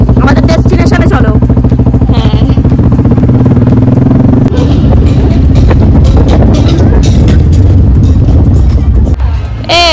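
A motorcycle engine drones loud and close in a steady low hum with wind rush and rattling, while people talk over it throughout.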